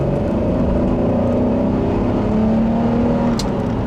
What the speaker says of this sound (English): the V6 also makes a very nice snarl